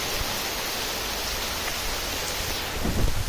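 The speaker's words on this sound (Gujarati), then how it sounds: "વરસાદ કેવો પડે છે" Rain falls in a steady, dense hiss throughout, with a few soft low thumps near the end.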